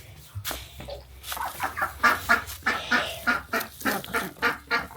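Geese at a farm honking and cackling in a repeated rhythmic series of calls, fairly close and clear, with no talking over them.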